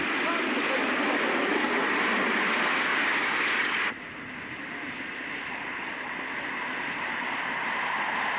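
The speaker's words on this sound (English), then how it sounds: "The engine took up the load quite sweetly and was soon devouring the laps in fine style." A miniature steam locomotive hauls a load of riders around a model engineering society's track, producing a steady, broad rumble and hiss that drops slightly in level midway and then holds continuous.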